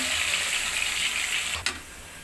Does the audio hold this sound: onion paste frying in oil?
yes